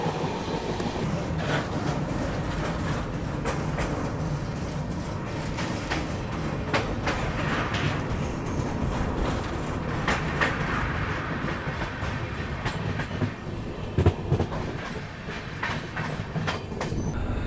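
Pushpak Express train rolling along the rails in India, a steady loud rumble with repeated wheel clicks and rattles throughout, heard from on board.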